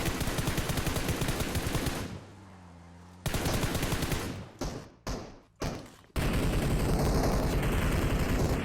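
Gunfire in the mobile battle royale game PUBG Mobile, loud bursts of rapid automatic shots with a pause, then several short separate bursts and a long sustained volley at the end.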